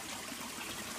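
Water trickles steadily through a garden pond filter packed with layers of filtering material, a soft continuous dribbling wash at low level with no voices.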